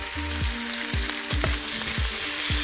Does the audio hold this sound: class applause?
no